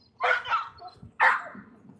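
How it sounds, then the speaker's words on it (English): A dog gives two sharp, excited barks close by, a second apart, with a short whine between them. "He's barking, but it feels like more like a exciting bark than anything else."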